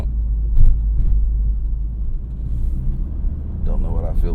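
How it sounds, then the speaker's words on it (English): A 2025 Subaru WRX TS rolls over a speed bump, heard from inside the cabin as low road rumble with a brief thump from the suspension, and a person speaks near the end. "Speed bump."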